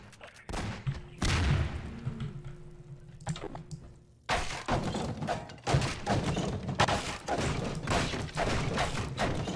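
Rapid bursts of video game gunfire rattle through the second half, loud and dense, after a quieter stretch of thuds and mechanical clatter; a voice speaks briefly in the quiet opening.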